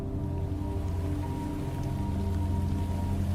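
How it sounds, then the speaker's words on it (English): Heavy rain pours steadily and loudly, a dense continuous roar of drops drumming on surfaces with no pauses or voices. "the rain started slamming down"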